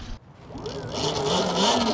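The chain drive of a Russian electric motorcycle gives a rising mechanical whir and whine that grows steadily louder after a short quiet start, with no engine sound.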